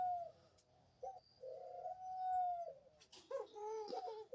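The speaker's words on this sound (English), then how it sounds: "her cooing is a very female one." A female dove coos beside her cage in a few soft, hollow calls, one long drawn-out coo in the middle followed by a shorter burst of calls, close by in a quiet room.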